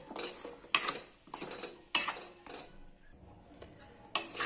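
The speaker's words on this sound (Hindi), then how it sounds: "अब लगातार हम चलाते रहेंगे जब तक कि हमारी ये गुड़ की चाशनी जमना ना शुरू हो जाए" Metal spoon scraping and clinking against a pan while jaggery syrup for wheat-flour gur pare is stirred, giving a few sharp clanks spaced irregularly among softer scraping, close and fairly quiet, with no talking.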